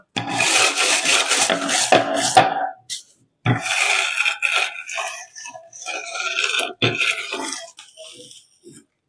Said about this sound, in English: And roll it with your rolling pin.